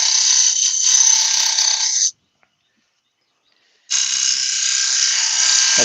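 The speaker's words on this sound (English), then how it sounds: "you run it up against the grindstone just to do this edge" A woodturning lathe scraper is ground against a grindstone in two loud bursts of harsh, steady grinding hiss, separated by about two seconds of near silence.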